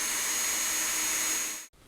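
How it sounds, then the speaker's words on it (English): A power drill bores through aluminium over a scrap piece of wood, giving a steady, loud, high whirring drone that holds evenly, then cuts off abruptly near the end. "now we'll get the bit into our drill, and that's simply a case of drilling through"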